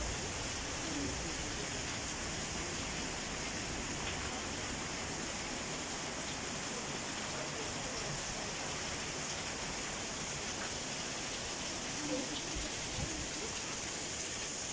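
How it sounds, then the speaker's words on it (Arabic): Waterfall in Bursa, a constant broadband rush of falling water that stays even and unbroken throughout, heard from fairly close with no voices. "هون محل شلالات، هلا بطريقة أصورلكم إياها"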